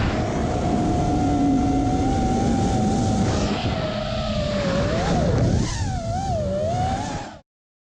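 A model aircraft from a university Design/Build/Fly team landing on a runway: a steady, close electric motor whine that wavers and dips in pitch toward the end, then cuts off abruptly.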